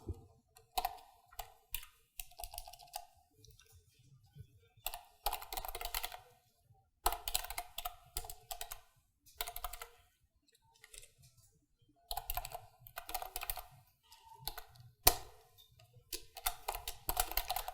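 Keys clatter on a computer keyboard as an admin password is typed, quiet bursts of rapid clicking separated by brief pauses, close and alone without talk.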